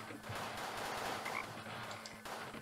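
A frog croaks in the Deponia adventure video game, a close, fairly loud, dense rattling croak lasting a couple of seconds over a low background hum, with no talk.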